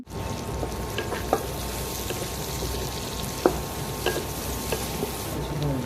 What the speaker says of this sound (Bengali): একটি কড়াই আমি ওয়ান থার্ড কাপ সয়াবিন তেল গরম করে নিয়েছি এর ভিতর দিয়ে দিচ্ছি হাফ কাপ পরিমাণ পেঁয়াজ কুচি